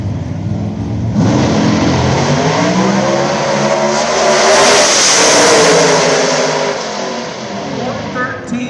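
A drag racing car launches down the strip in a PDRA World Finals eliminations round, its engine a loud, sustained roar that rises and sweeps past. An announcer talks over it.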